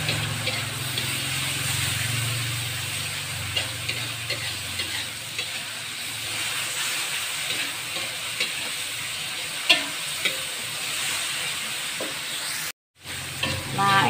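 Balado spice paste, seasoned with salt, sugar and flavour enhancer, sizzles loudly in a frying pan for egg balado. Continuous close frying noise carries repeated scraping stirs, then a brief silent gap near the end.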